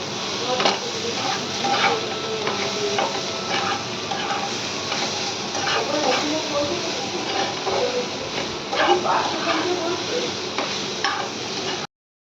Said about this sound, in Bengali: এটাকে ভালো করে নেড়ে ফেলে শাকটা অলরেডি কমে যায়।